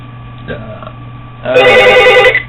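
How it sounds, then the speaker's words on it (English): A telephone bell rings loudly in one sustained burst, close to the mic, after a stretch of quieter room sound with a brief voice. "There's that damn phone again."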